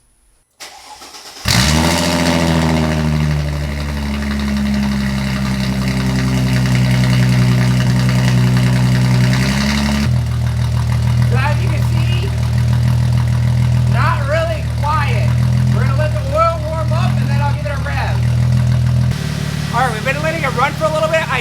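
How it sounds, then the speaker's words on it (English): A supercharged Mercedes SLK320 with a straight-pipe exhaust and no muffler cranks, fires up loudly and settles into a deep, steady idle with a droning low rumble, while someone talks briefly over it near the end. "I'll let you hear what it sounds with with no muffler, just the straight pipe exhaust."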